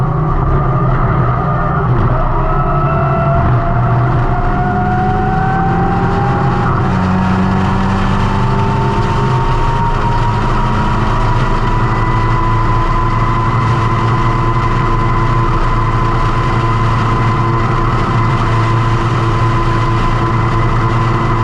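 Lotus race car from the Lotus trophy series screaming at high revs on the last lap at Circuit Paul Ricard, a loud, continuous engine drone with pitch sweeps through the gears, close and steady throughout with no talking.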